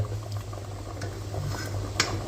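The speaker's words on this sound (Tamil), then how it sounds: "நல்லா கொதிச்சு அவிஞ்சு கொண்டிருக்கு" Jaffna odiyal porridge bubbles in an uncovered pot, a steady low simmering burble with occasional soft pops, close and moderately quiet.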